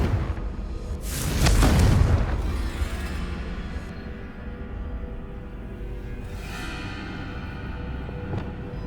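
A Confringo fire spell blasts in Hogwarts Legacy, a loud deep boom bursting about a second in and rolling into a long rumbling tail, with a fainter second burst near the end.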